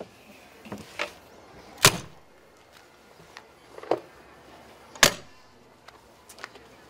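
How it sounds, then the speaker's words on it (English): Sewer compartment door on a New Horizons Summit fifth-wheel RV being swung shut and latched, producing a few sharp clicks and two distinct close thuds amid quiet background. "bring this door back closed to keep it locked up"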